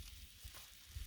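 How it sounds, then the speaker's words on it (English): Steak-Umm meat sizzles on a Blackstone griddle: a faint, steady hiss and crackle running for about a second with no voices. "Whoa, just listen to that sizzle."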